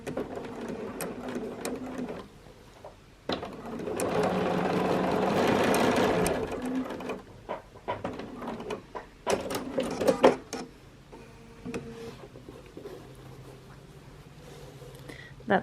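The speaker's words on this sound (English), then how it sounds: "And sew it." A Bernina sewing machine stitches strips of fabric together in a quilting session, running in rapid mechanical bursts with a long steady stretch of whirring, then shorter stop-start runs, clicks and handling of the fabric, with no talk.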